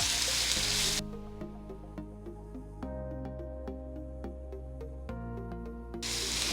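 Onions frying in a pan for coconut milk pulao give a loud, dense sizzle at the start, drop away under background music, then surge again briefly at the end.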